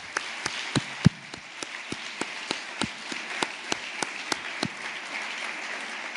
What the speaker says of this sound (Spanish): dando un aplauso colectivo también a los intervinientes